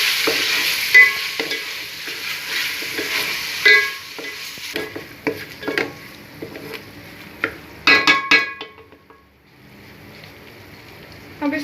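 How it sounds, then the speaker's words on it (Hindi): Ginger garlic paste fries in a pan for potato pulao, with a bright sizzle that fades partway through, punctuated by sharp scraping and clinking strokes of a spoon stirring against the metal. "दो मिनट फ्राई करें।"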